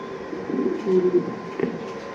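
Soft, low cooing from a male racing pigeon being held in a loft, a few close murmuring coos over quiet background hum.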